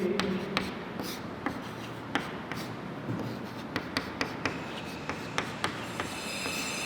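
A formula is written out by hand, pen or chalk strokes tapping and scratching in a quick irregular series over faint room noise, heard close with no talk.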